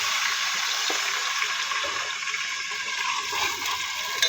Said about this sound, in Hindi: इसमें हम शामिल करेंगे थोड़ा सा पानी।